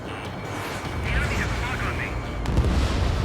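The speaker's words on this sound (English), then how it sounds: "The harbor's under heavy fire!" Heavy gunfire and explosions pound a harbor under attack in the Ace Combat 7 jet combat game, a dense continuous barrage of booms and bursts with a radio voice speaking over it.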